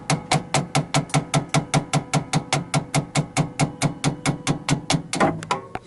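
Hammer striking to knock a driveshaft off a 2015 UAZ Patriot, around thirty sharp metallic blows in a fast, steady rhythm, close and loud, ending with a brief clank of parts.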